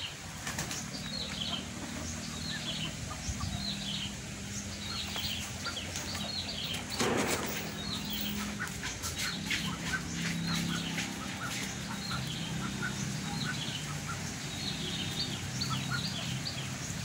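Muscovy ducks and other ducks fill a farmyard on the outskirts of Hanoi. Wings flap in sharp bursts, mixed with steady clucking and quacking, all at close range over a constant rural background. No one talks.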